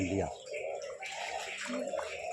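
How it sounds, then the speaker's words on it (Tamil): Rainwater from heavy rain in Aranthangi flows over a step and into a house, a steady rushing and splashing wash heard close by, with people talking over it. "இந்த தண்ணி பூரா இங்கே தானே வருது படி போட்டு இப்படி வருதுண்ணே வீட்டுக்குள்ளே"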